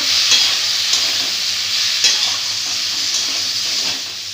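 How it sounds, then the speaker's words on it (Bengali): Tomatoes fry with chili, turmeric, coriander and cumin powders in a loud, close, continuous sizzle, with faint scraping stirs at intervals and no voices. "এবারে দিয়ে দেবো লঙ্কা গুঁড়ো হলুদ গুঁড়ো ধনে গুঁড়ো জিরা গুঁড়ো ভালো করে একটু কষিয়ে নেবো"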